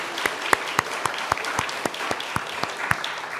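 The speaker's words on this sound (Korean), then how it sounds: "한번 큰 박수로 격려해 주시기 바랍니다." A church congregation claps for the choir in a steady, even rhythm, with sharp, evenly spaced claps from a group heard at moderate volume without talking.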